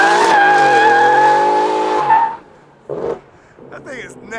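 A 2022 Ford F-150 with a 5-liter engine and Borla Atak exhaust does a burnout, with loud, close tire squeal over a droning engine that cuts off after two seconds, followed by short bursts of engine and tire noise.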